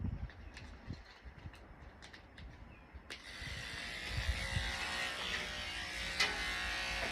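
Electric dog clippers fitted with a 3/4 comb attachment run steadily on the top of a doodle's head, a close continuous buzz that swells louder partway through, with faint clicks before it.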